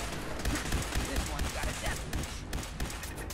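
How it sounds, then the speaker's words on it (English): Repeated gunshots aimed at a turret in Fallout 4, a steady stream of sharp cracks over a noisy background, fairly faint and continuous throughout. "Well, we put some shots into that and it ain't gone down yet."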